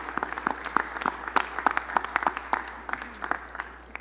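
Audience applause for a brass band at the Super Bowl LIX opening press conference in New Orleans, a modest round of steady clapping from a small crowd lasting several seconds.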